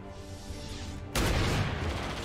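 A precision shot fired in XCOM 2, starting as a loud, sudden blast halfway through that fills the rest of the clip with a dense, sustained roar after a quieter lead-in.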